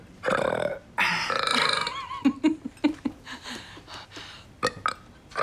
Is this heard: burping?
yes